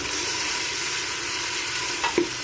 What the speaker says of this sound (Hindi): पेस्ट ऐड करके इसको अच्छे तरीके से हम भून लेंगे